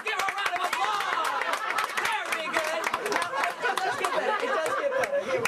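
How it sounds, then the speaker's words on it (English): An audience applauds a volunteer at a sponge ball magic show, with steady scattered clapping mixed with chatter and light laughter throughout, fairly close and continuous. "Give her a round of applause."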